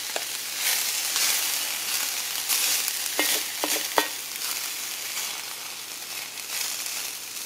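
Steady sizzling and crackling of food frying in pork fat on a discada for street tacos, with a few sharp scraping stirs of a utensil against the metal, close and continuous with no talk.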